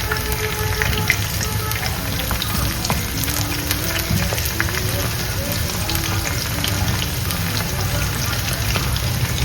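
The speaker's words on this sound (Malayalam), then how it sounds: "നല്ല വറുത്ത് കിട്ടണം." Chicken 65 deep-frying in a pan of hot oil gives a loud, dense, continuous sizzle and crackle, close and steady throughout, with no talking.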